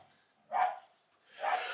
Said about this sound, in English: next door's decided to let the dog out